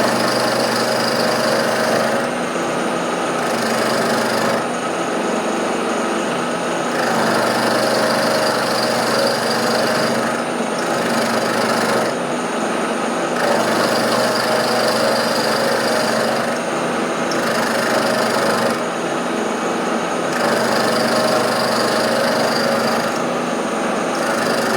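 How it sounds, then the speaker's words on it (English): A milling machine cutting a steel valve rod knuckle joint for a 7 1/4 inch steam locomotive, a loud continuous whirring grind that pulses in steady rhythmic cycles throughout, close and without talk. "I'll get it set up and then we'll get milling that off"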